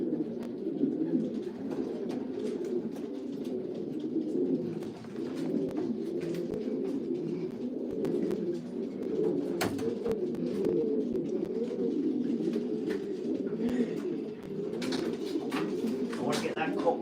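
Racing pigeons coo in a dense, continuous murmur while being put into baskets for a race, with scattered wing flutters and knocks, and someone talking at times over the birds.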